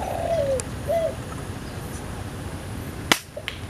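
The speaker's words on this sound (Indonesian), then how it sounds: "terlihat ada tekukur lagi" Spotted dove cooing during a dove hunt, a couple of soft rising-falling calls early on over steady outdoor background noise, followed by a sharp snap near the end.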